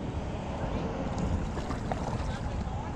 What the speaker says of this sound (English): It's incredibly windy out here today. I'm sure you can tell by the wonderful audio.